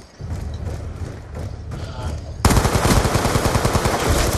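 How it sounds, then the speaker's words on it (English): Rapid automatic gunfire in Call of Duty Black Ops 2 during a 2v2 match: quieter scattered shots first, then a loud sustained burst of fast rhythmic fire. "Benny Boy takes some shots and can take up the kill there"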